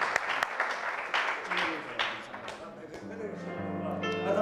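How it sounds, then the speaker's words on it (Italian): An audience at a sports bar show claps briefly to encourage performers, the scattered applause fading after a couple of seconds as voices and background sounds take over. "facciamo un applauso per incoraggiarli."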